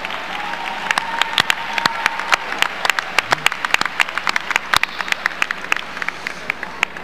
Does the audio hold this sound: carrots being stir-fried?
no